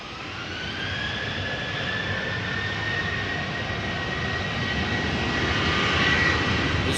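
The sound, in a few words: Boeing 737-800 jet engines spooling up for takeoff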